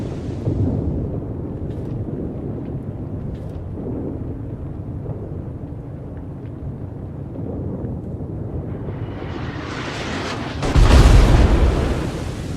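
Heavy battleship main guns of the USS West Virginia booming in a naval combat video game, a deep rumbling background building to one loud, close broadside blast near the end.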